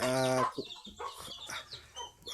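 Chicken sounds from a mother hen and her chick on a rural farm, with a short series of clucks and chirps close by, followed by softer scattered calls over faint background noise.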